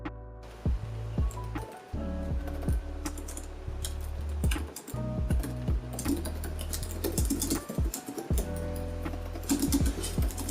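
Typing on the keyboard of a Lenovo Legion 7i gaming laptop: steady close-up key clacks in quick irregular bursts with brief pauses, crisp and fairly loud, no voices.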